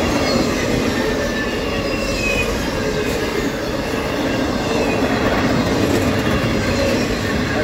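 A freight train passing close at night on a Norfolk Southern line, a steady loud rumble of rolling wagons and wheels with faint clickety-clack and occasional squeal, continuous throughout with no talking.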